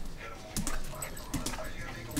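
Two small dogs play on a dog bed, giving short yips, whimpers and playful grunts in quick bursts, close by amid rustling.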